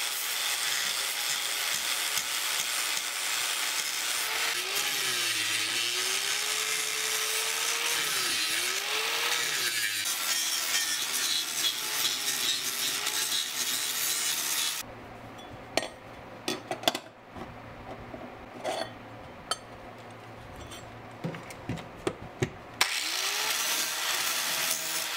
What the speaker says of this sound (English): So next thing to do is grind off all the paint.